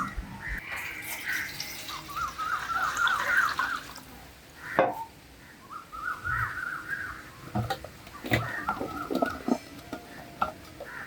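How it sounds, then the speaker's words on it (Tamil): Tomatoes washed by hand in water while preparing a Jaffna fish curry, with irregular sloshing, dripping and splashes coming in bursts over several seconds, close by and without speech. "தக்காளி கழுவு."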